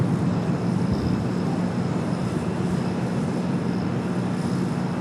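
Boeing 737-900ER jet engines at LAX drone with a steady, loud, broadband roar that holds constant throughout, with no voices over it.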